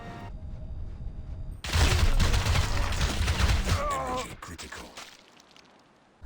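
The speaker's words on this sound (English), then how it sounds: "shooting almost instantly if you uncloak in front of them" Enemy soldiers open fire in Crysis Remastered on Nintendo Switch, a sudden loud burst of rapid gunshots that breaks in after a quieter stretch, continues densely for a few seconds, then fades toward near silence.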